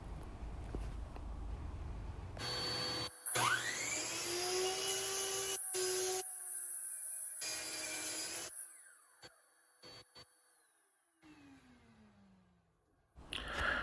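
A miter saw cutting 2x lumber: the blade spins up to a loud, bright whine, bites through the board in a sustained cut, then winds down with falling pitch, followed by brief clatter and quiet.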